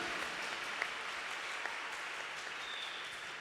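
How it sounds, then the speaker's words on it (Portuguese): A church congregation claps together during a Catholic Mass homily, a steady dense wash of applause held at an even level throughout, with no voices over it. "Uma salva de palmas para Jesus,"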